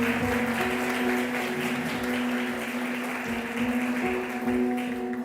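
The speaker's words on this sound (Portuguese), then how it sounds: "Uma salva de palmas para eles" In a church, the congregation applauds newly welcomed members, a full, continuous round of clapping from many people that stays loud throughout, with a steady tonal hum sitting underneath it.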